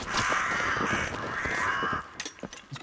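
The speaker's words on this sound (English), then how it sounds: "These pesky crows start to grief me though." Crows in the Dark and Darker video game give loud, repeated harsh caws that overlap for about two seconds, then trail off into scattered quieter calls and clicks.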